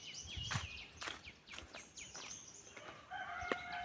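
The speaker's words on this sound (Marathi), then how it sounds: "पक्ष्यांचा तुम्ही आवाज ऐकाल. सकाळची टाईम आहे." A rooster crows at close range while other birds chirp and call around it on a morning in the Konkan countryside, with faint rustling and footsteps in the background.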